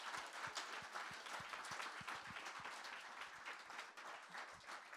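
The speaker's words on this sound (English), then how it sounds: "So, extra applause." Audience applause at a summer camp evening show, a steady patter of many hands clapping with a few sharper individual claps standing out, fairly close and continuous for several seconds with no talking.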